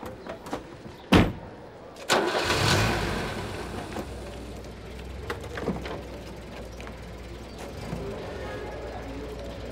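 A car is heard with a couple of sharp knocks like a door shutting, then the engine catches and settles into a low, steady idle rumble, while people talk nearby.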